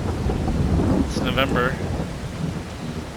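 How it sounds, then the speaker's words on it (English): Rain pours steadily in Farming Simulator 22 with a low rumble of thunder rolling underneath, dense and continuous, while a voice speaks briefly over it. "And it's raining."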